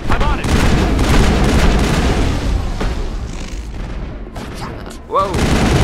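Dense, loud gunfire and booming shots fill a firefight in the video game Mass Effect during a club raid, with voices talking over the steady barrage throughout.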